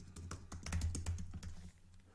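Rapid keystrokes on a computer keyboard, a close burst of quick clicks that thins out and stops near the end, with no talk.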